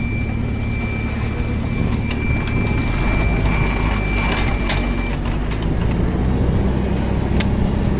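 A Toyota 1.5-tonne forklift with a 4.5-metre lift height drives along, giving a loud, steady engine and drivetrain rumble with a thin whine and occasional rattles heard up close, without talking.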